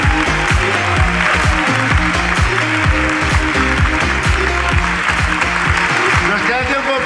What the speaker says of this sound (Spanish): Un aplauso para la ruina de Cristina